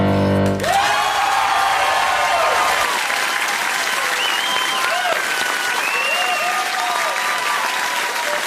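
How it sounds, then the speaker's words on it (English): Studio audience applauds a comedian-musician on a late-night comedy talk show, a dense, loud wash of clapping that swells in after a brief opening and holds steady throughout with a few faint cheers. "Another round of applause for Sammy J."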